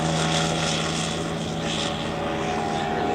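Aerobatic propeller plane at an air show performs a stall turn, its engine droning steadily with a strong tonal hum and a slowly shifting pitch, loud and continuous.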